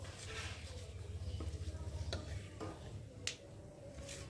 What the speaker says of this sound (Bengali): এলাচ, দারচিনি, লবঙ্গ এগুলো দিলাম, আর কয়েকটা জিরে দিয়ে একটু ভালো করে নাড়াচাড়া করব।